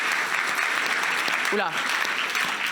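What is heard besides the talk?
audience applause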